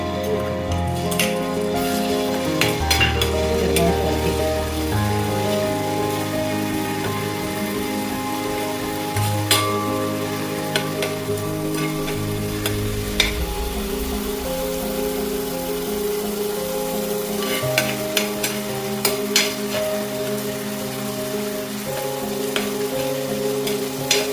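Crushed ginger, garlic and green chilli paste frying in coconut oil for a chicken curry, a continuous close sizzle with occasional utensil clinks and stirring, no speech.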